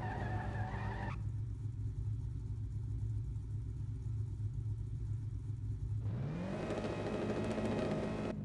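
A drag car in the mobile racing game No Limit Drag Racing 2.0 spins its wheels at the start, a loud continuous engine roar and tyre screech that shifts pitch midway and rises again, with no talk.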